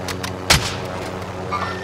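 Gunshots ring out in a battle royale video game, several quick sharp cracks early with one loud, prominent shot near the middle over a steady background hum of game ambience.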